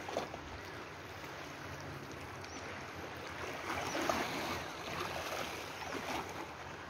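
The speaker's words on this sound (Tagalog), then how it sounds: "Ang lakas pa ng alon." Strong sea waves roll onto the beach at a resort in Balangkayan, Eastern Samar, a continuous, fairly faint broadband wash that swells a little midway through, with no talking over it.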